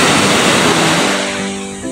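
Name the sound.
sea waves at the beach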